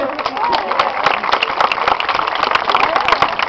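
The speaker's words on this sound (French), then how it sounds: "Excellent, on peut l'applaudir." A small audience applauds at a demonstration, with dense, steady clapping running throughout and a voice speaking over it.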